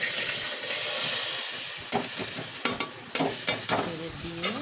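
Cinnamon, cardamom, cloves and bay leaves sizzle in hot oil for chicken polao, a steady bright hiss with spoon scrapes and clinks stirring through the pan, close and fairly loud throughout.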